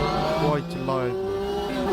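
A turbocharged Porsche 962 race car without anti-lag revs and shifts in a Le Mans racing game, its engine note climbing and dropping in sweeps, loud and close, with a voice talking over it.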